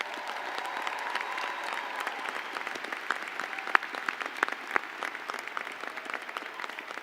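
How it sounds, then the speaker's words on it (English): A large audience at a commencement ceremony gives a steady round of applause, dense clapping with a few sharper individual claps standing out. "Please join me in showing appreciation with a round of applause for their efforts."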